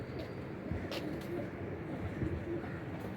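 Domestic pigeons, including golden and slate-grey youngsters, coo softly in a loft as background murmur. Indistinct voices run underneath and the cooing stays steady, with no clear standout calls.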